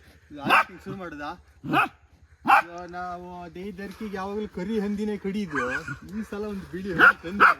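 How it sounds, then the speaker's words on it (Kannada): A dog at a village festival barks sharply a few times in a row, then someone talks over the scene while further barks break in near the end. "ಕಾಡಂದಿ ಅಂತ ಬೊಗಳ್ತಿರೋದು."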